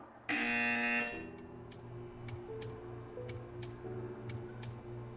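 In the Portal 2 level The Courtesy Call, a loud electronic buzzer blares for about a second in the game's test chamber, followed by a low hum and a series of sharp ticking clicks.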